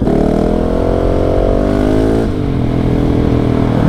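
A KTM 690 SMC R supermoto engine revs loudly up close, pitch climbing steadily before a sharp drop and renewed rise at a shift.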